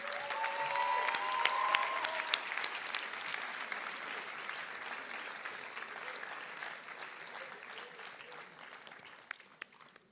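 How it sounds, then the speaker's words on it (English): A graduation ceremony crowd applauds an award recipient with sustained, dense clapping that holds steady and slowly tapers off toward the end, with a few voices faintly underneath. "please give a big round of applause, to Abiha Fawad Khan"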